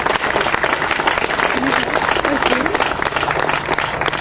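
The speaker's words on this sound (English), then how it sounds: "So let's give them a round of applause first." Dense, steady applause from a rally crowd, loud and close throughout, with some cheering voices mixed in.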